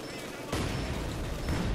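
Sniper rifle fire in Company of Heroes 2 strikes with one sudden loud crack, then battle noise rumbles on under someone talking.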